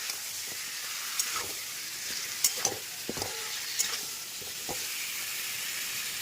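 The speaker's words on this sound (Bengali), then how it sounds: "লো ফ্লেমে আস্তে আস্তে চিকেনগুলোকে ভাজবো আমি।" Steady sizzling of chicken frying in a pan on low flame, with occasional stirring clinks and scrapes over a continuous hiss.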